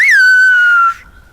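A single loud, piercing whistled phrase in Silbo Gomero, the whistled language of La Gomera, rises briefly and then holds a long steady tone before cutting off sharply, heard alone and up close.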